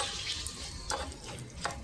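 Manathakkali vathal, sun-dried black nightshade berries, frying in ghee with a soft continuous crackle and a few brief sharp pops, close and quiet with no talk.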